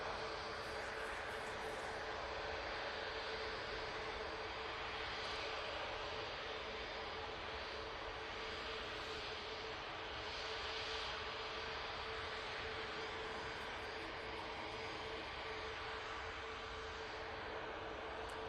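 A Qatar Airways airliner at Manchester Airport fills the air with a loud, steady jet engine roar and a constant tonal whine, unbroken from start to finish.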